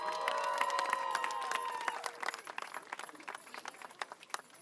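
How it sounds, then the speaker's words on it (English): An outdoor Palestine solidarity rally crowd claps and cheers for a speaker, a faint, scattered patter of hands at a distance with some whistling tones early on. "Give him a round of applause"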